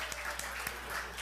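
A congregation gives brief welcoming applause at a church service, a quiet, distant patter of clapping that lasts only a moment.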